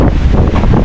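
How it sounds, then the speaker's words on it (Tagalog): Strong wind buffets the microphone at the Bukana river mouth, a loud, steady broadband roar with gusty rumble and no pause throughout. "Grabe mga kajoks ang hangin."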